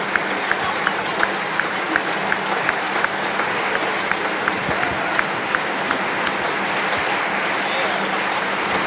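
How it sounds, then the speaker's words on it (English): A large audience at the re:publica 2018 closing ceremony claps in sustained, dense applause with crowd noise, loud and continuous for the whole stretch, with some voices mixed in. "Don't stop applauding, please."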